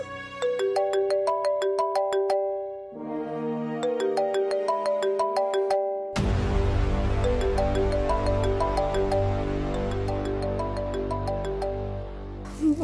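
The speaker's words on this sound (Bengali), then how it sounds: "এবার তোমাকে ফোনটা ধরতেই হবে।" A mobile phone ringtone for an incoming call plays on its own, a bright melodic tune of repeating tones that fills the whole span, turning into a fuller, louder arrangement partway through.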